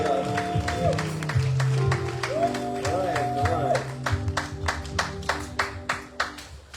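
A church congregation applauds and cheers for the Lord in steady, rhythmic clapping that grows more distinct toward the end, with sustained tones and voices underneath.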